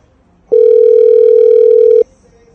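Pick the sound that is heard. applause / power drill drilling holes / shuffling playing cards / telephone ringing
telephone ringing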